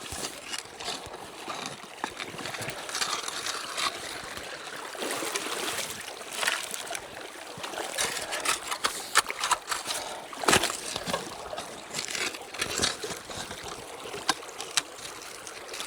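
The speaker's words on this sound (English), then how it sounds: "I'm just doing a test pan right now." Water sloshes and splashes in a gold pan during a test pan in a creek, a steady close churning with irregular louder swirls and splashes, over a running stream background.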